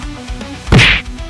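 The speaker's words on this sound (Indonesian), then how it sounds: "Suara pukulan bercampur dengan cipratan darah dari keduanya." One hard punch lands as a sharp, heavy thwack in a dramatized manga fight scene. The single close impact rises over a low rumbling background and fades fast.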